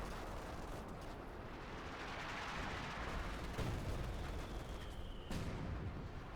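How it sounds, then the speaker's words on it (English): Artillery fire in Company of Heroes 2, a dense continuous rumble of blasts and distant shelling from a World War II battle, with a sharp loud crack near the end. "More artillery fire running down there, ruthlessly and ceaselessly."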